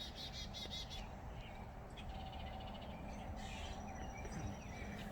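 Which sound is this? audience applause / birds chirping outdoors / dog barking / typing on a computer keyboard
birds chirping outdoors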